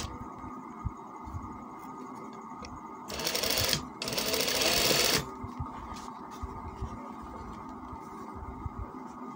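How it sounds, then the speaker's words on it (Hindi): A sewing machine stitches a shirt cuff in one steady burst of about two seconds, a brief pause, then another run; quiet room tone and small handling sounds before and after. "जिस तरह ये मैंने एक कफ को सिलाई लगा रहा हूँ"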